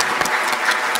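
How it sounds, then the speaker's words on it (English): Brief warm applause from the audience at a FIFA football conference session, a steady wash of many hands clapping, fairly loud and close, with a few sharper individual claps standing out. "I would like to have a warm applause for them"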